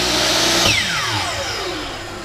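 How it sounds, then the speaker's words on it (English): A chop saw spins down in a workshop, a loud whine with a falling pitch as the blade coasts after release, over a steady whirring background. "it's a chop saw"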